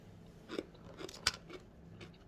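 Close-up crunchy chewing of sauerkraut, several crisp bites and munches over about two seconds, fairly quiet, with no talking.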